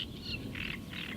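Common cranes calling at Gallocanta lagoon, three drawn-out trumpeting calls at moderate distance over a steady low outdoor rumble, no voices.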